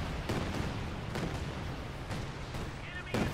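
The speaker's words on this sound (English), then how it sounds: "Nice Calliope shot." Calliope rocket artillery firing in Company of Heroes 2, heard as a string of sharp launch bursts and booms over a constant low battlefield rumble, with a louder burst near the end.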